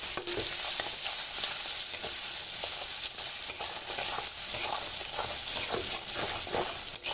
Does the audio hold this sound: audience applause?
no